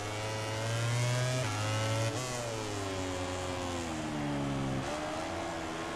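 Aprilia motorcycle racing in MotoGP 18, a high, close engine whine holding steady then dropping at gear shifts and rising again through a corner, alone without talk.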